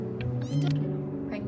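A cat meows in the video game Before Your Eyes, a short plaintive call rising over a steady musical hum, with a brief voice-like sound mixed in.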